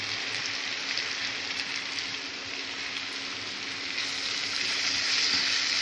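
Onion and tomato masala frying in a pan, a continuous dense sizzle that stays steady and close throughout with a slight rise toward the end, no talking.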